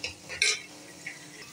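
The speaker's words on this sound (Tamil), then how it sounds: "இப்போ கேப்சிகம் நல்லா வெந்துட்டுருக்குது." Red capsicum sautés in a pan for a breakfast idly podimas, a soft sizzle under a few clinks and scrapes of a stirring spoon against the metal, close and fairly quiet with no talking.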